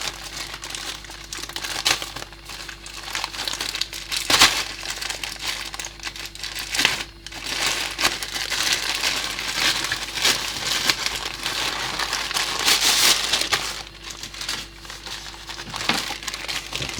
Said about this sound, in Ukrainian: Мені подобаються оці пакування, пакетик в пакетику